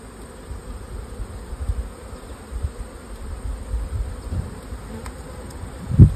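Honey bees around a beehive during a summer dearth, a soft, steady buzzing hum close by with occasional louder passes and a faint thump at the end.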